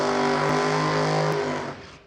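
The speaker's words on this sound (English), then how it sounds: "There's loud burnouts coming." A drag racing car at an NHRA divisional race roars through a loud burnout, a sustained engine howl that holds steady then fades in the final half second.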